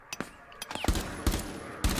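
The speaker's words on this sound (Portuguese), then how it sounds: "para de atirar em mim" Gunfire in the Rainbow Six video game: a rapid string of sharp, close shots in quick bursts over about two seconds, with no speech.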